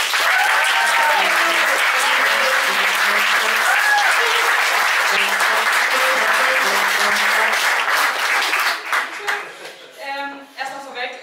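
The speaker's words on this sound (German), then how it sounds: "Das verdient ganz besonders viel unterstützenden Applaus." Sustained audience applause at a poetry slam in Stadthagen, dense steady clapping from a large crowd that thins and fades toward the end.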